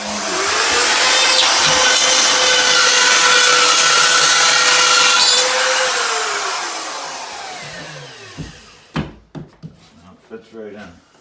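A power saw trims a long piece of drywall to fit over bare lath in an 1875 farmhouse, a loud steady whining cut lasting several seconds that winds down, followed by a few short knocks and scrapes as the piece is set.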